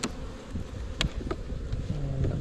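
Honeybees buzz steadily around an open hive during an early-spring inspection, a dense close drone with a few sharper knocks and thumps of frames being handled.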